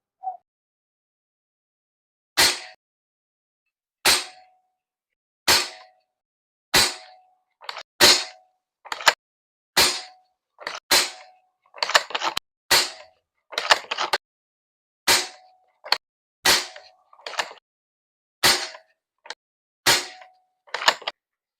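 A rifle fitted with a T-Rex magazine fires a group of shots, sharp loud cracks spaced a second or two apart and growing quicker toward the end, each with a short ringing tail and no talk.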